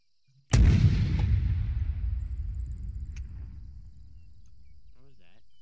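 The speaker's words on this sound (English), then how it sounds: "Gun. Mortar. They are making fire." A single heavy mortar round fires in the Arma 3 war game with a sharp, loud boom, then rumbles away for several seconds before a faint voice at the end.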